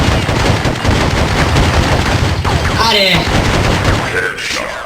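Pistol gunfire in a Counter-Strike match, heard as rapid, loud game shots packed into a dense barrage over steady noise, with a voice shouting briefly near the end.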